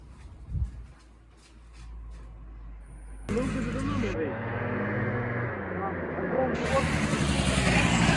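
A vehicle engine, freshly finished and fitted with new wheels, fires up and runs, growing louder and revving higher as the vehicle rides off, with a brief voice just before.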